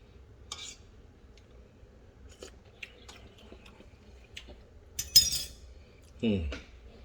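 Metal cutlery clinks and rattles in a kitchen as a clean spoon is fetched, a few scattered light chinks and one brighter clatter, fairly faint and sparse with quiet background.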